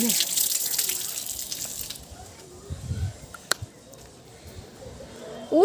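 Water poured out at home during a meal of freshly picked jackfruit, a close hissing stream for about two seconds that then stops, leaving a quiet room with a few soft knocks and clinks.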